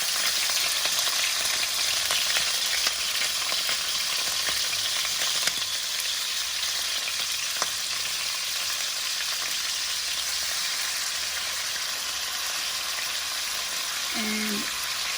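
Beef steak fries in a pan with a constant close sizzling hiss and scattered small pops, carrying on evenly for a long stretch with no voices.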